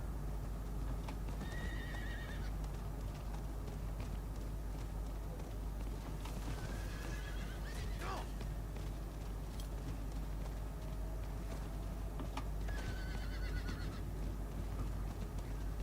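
A horse in the video game Diablo IV neighs a few times over steady galloping hoofbeats and a constant low rumble, with a continuous game-like background.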